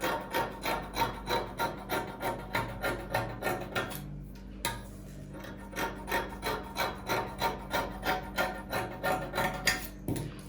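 Fabric for a two-piece trouser and top outfit is trimmed while sewing, giving a steady train of close, rhythmic rasping cutting strokes, roughly two per second, with a brief pause midway and no talking.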